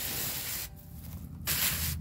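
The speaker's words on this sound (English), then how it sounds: "I'm using a 1/2 gallon sprayer." A half-gallon pump sprayer sprays a castile soap mix in two bursts of loud, close hissing mist, separated by a short quieter gap, over potato plants outdoors.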